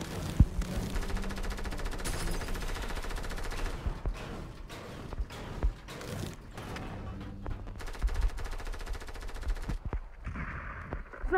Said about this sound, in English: I did not mean to shoot.